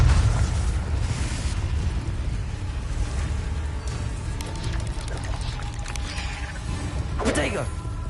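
A Confringo blasting spell goes off in Hogwarts Legacy, a booming, rumbling explosion with a sharp burst near the end, heard under a dense mix of battle noise and spoken voices.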